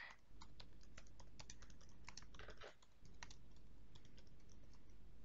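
Computer keyboard typing, a steady run of quick close keystrokes with a brief pause near the middle, over a low constant hum and no voices.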